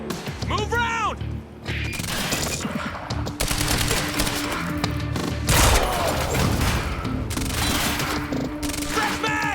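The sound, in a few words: gunfire in the video game Quantum Break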